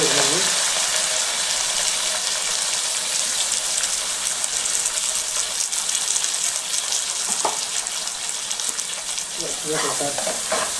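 Onions, curry leaves and cumin fry in oil in a pan for a prawn and ridge gourd curry, giving a steady loud sizzle with occasional stirring scrapes throughout.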